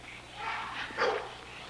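A dog barks and yelps at middle distance over steady background noise, a couple of short bursts.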